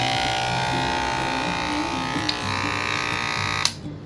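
A mains-powered electric hair clipper, corded rather than rechargeable, hums with a steady, close, continuous buzz, then stops with a brief click near the end.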